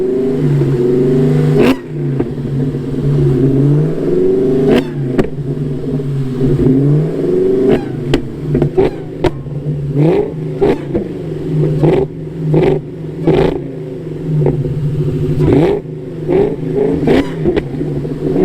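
A Ford Cobra fitted with a Wot Box two-step launch control revs hard and repeatedly, its engine note climbing and dropping with sharp pops and crackles between bursts, loud and close with no talking.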